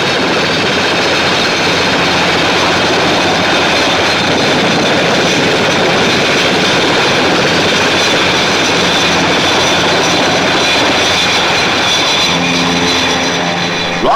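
Powerful military jet engines of aircraft, including Buccaneer S.1s, launching from an aircraft carrier roar continuously and loudly, a dense steady blast with no pauses, close by.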